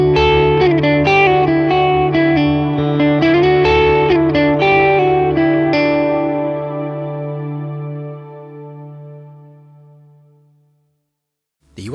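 An instrument played through a Strymon Cloudburst reverb pedal with its tone control turned well down, giving sustained, darkened notes. After the playing stops, a long, smooth reverb tail fades slowly to near silence.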